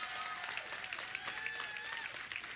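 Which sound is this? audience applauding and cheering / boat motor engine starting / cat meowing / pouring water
audience applauding and cheering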